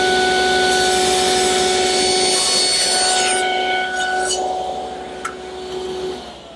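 A table saw cuts a tenon shoulder on a wooden pedestal table leg blank, a loud close whining tone that strains through the wood, then winds down with a few light knocks.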